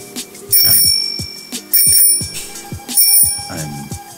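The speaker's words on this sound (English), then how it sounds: "I hear the bell ringing" A video game bell rings loudly in three or four separate bursts, each a bright metallic chime with quick decays, no voices over it.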